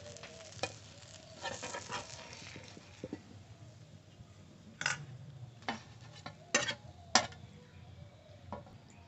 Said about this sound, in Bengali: ডিমের অমলেটের আকারে ভেজে নামাবো